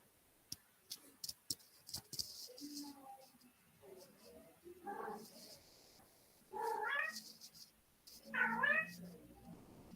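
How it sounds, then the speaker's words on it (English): A pet cat meows several times, drawn-out calls growing louder toward the end, set against a faint ticking clock and sharp clicks, with no talk during the cries. "Is that your cat, Martin?"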